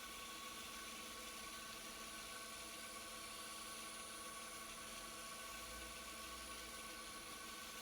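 A wood lathe spins steadily as a yew baseball bat is sanded with Yorkshire grit, a continuous even mechanical hum with a constant high whine running unbroken throughout.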